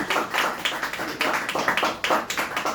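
A small stand-up comedy crowd claps after a set, with uneven bursts of hand claps in a loose rhythm, close and moderately loud, without strong cheering.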